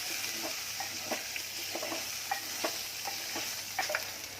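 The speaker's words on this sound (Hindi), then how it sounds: "अब चावल को इस तेल में भून रही हूँ" Rice frying in oil in a pan for a mandeli fish curry, a steady close sizzle with scattered scraping stirs and light clicks throughout, no voices.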